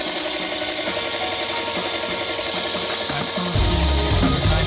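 A ball-in-bowl physics rig motor spins at its 690 RPM top speed, giving a steady, loud whirring drone throughout, and a deeper hum rises in the last second.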